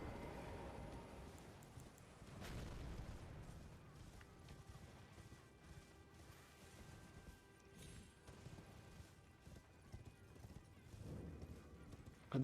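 A horse gallops in the Elden Ring game with clip-clop hoofbeats while enemies shoot at it, with faint impacts and thuds in a quiet game soundscape and no talk.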